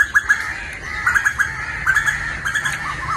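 A koel calls in the countryside, a series of short, repeated calls in an uneven rhythm over faint outdoor background noise, at a moderate distance.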